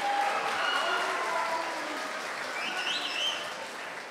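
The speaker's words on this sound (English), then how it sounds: "Yeah, round of applause." Sustained crowd applause at a Verdon College house haka competition, a dense, steady clapping from many hands that holds throughout and eases slightly toward the end, with no talk over it.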